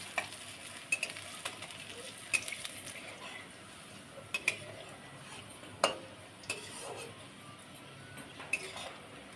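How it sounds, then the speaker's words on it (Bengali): Palm-juice fritters frying in oil, a faint steady sizzle broken by repeated light spatula clinks and scrapes against the pan. "খুন্তিটা দিয়ে আস্তে আস্তে নাড়িয়ে দেবো।"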